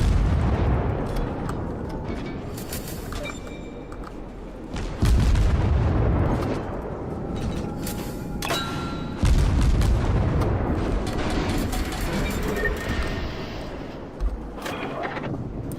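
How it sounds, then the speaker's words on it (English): Torpedo hits and explosions on a battleship in the naval combat game World of Warships, a run of loud booming blasts with heavy low rumble, sharp bursts at intervals amid continuous battle noise. "Looks like that cruiser was able to get a few torpedoes on that battleship."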